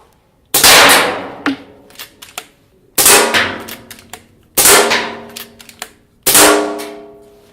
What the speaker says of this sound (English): I'll just quickly fire a few shots and you'll just see how fast and slick the action is.